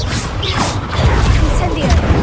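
The Confringo spell goes off in the Hogwarts Legacy video game as a loud, crackling burst of magical energy with whooshing swells and impact rumble, layered over busy game sound.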